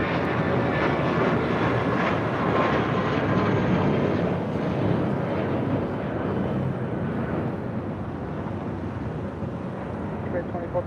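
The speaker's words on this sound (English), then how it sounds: "That was Spirit Airlines flight 2456 heading to Dallas, Fort Worth, Texas, and at A320" Spirit Airlines Airbus A320 taking off from a runway at LAX, a loud, steady, broad roar of jet engines that fades slightly toward the end, with wind buffeting the microphone.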